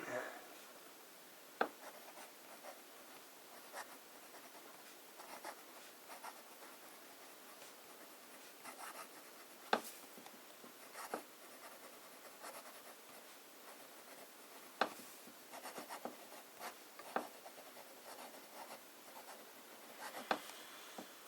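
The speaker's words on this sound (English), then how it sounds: "let's start with some fine writing" A fountain pen with a fine nib writing on paper in J. Herbin Scented Amber ink, a soft continuous scratchy rubbing broken by sharp little ticks as strokes start and lift, close and quiet, with no talking.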